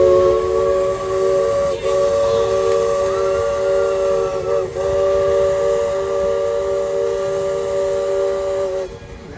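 The steam whistle of Shay locomotive No. 1 Dixiana on a redwood forest railroad blows a long, loud, sustained chord with a breathy hiss beneath it, briefly faltering twice before cutting off.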